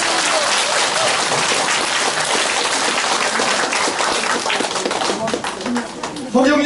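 Applause from a lecture audience at a Saturday talk by a speaker, dense and steady for several seconds before thinning, with a voice starting to speak at the very end.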